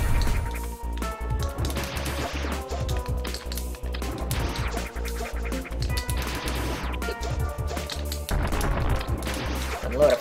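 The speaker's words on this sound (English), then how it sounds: "Unload a few missiles right into your face. Point blank range." Missile blasts from a Metroid 2 remake video game fired at point-blank range into a boss, a rapid series of loud explosive bursts and impacts over game music, with no talking.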